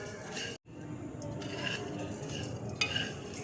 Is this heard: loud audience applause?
no